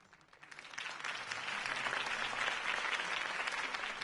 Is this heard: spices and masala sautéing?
no